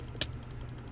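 Faint computer keyboard or mouse clicks during a Minecraft factions session: a sharp click near the start, then light, rapid tapping at low level against a steady background hum.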